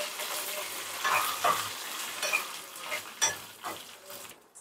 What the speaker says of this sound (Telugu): ఇప్పుడు కరివేపాకు, మిరపకాయలు కూడా వేసేసుకుందాం అండి.